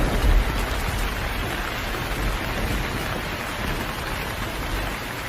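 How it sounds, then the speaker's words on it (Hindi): Heavy rain pouring down in a jungle, a dense steady hiss of drops striking foliage and ground with a low rumble beneath, continuous and fairly loud throughout. "एकदम से तेज बारिश शुरू हो जाती है।"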